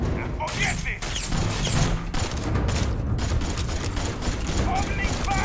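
Gunfire in Starfield, with loud, repeated sharp shots in an uneven rapid rhythm over dense combat noise.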